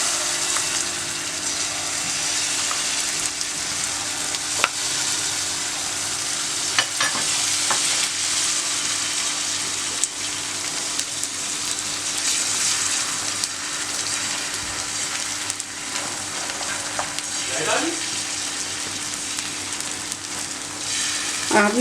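Batter is poured and spread across an oiled pan for a pizza paratha, frying with a continuous bright sizzle and occasional scraping of a spoon or spatula over the surface.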